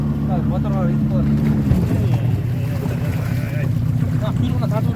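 A boat motor drones steadily on the water during a horse rescue, a constant low rumble with wind noise, while people talk and shout over it.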